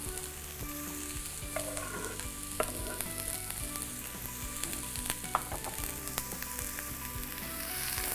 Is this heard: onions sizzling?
yes